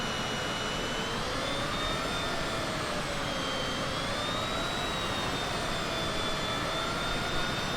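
A Cessna Citation CJ4 business jet in Microsoft Flight Simulator 2020 taxis on long grass, its turbofan engines holding a steady, loud whine and broadband roar with slowly wavering high tones, continuous and unbroken.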